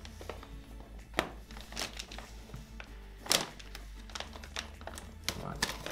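Scissors snip open a tough plastic bag holding fish for an aquarium, giving close, crinkly rustles and sharp clicks of plastic with irregular rhythm over a soft steady background.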